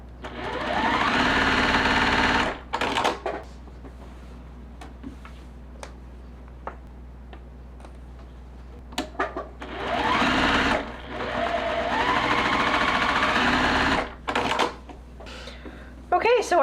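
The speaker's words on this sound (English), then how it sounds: "So we're gonna sew these two pieces together." A sewing machine joins quilt block pieces for a holiday pillow in two loud close bursts of fast stitching, with ticking and handling clicks and a brief fainter run between them.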